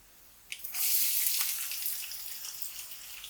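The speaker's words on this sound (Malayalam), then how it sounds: "സവാള ചേർത്ത് നന്നായിട്ട് വഴറ്റാം." Chopped onion dropped into a hot pan and sautéed for oats upma, a sudden bright sizzle that jumps up and then settles into a steady hiss, close and alone.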